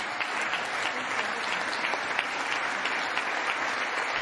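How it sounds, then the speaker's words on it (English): A press conference audience claps steadily and evenly, a dense, moderate patter of many hands that carries on without a break. "you can see all these people are tired of clapping"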